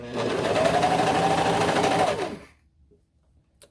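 A serger stitches a small Minikane doll leotard in one steady, fast whirring run of about two seconds, then stops abruptly into near silence.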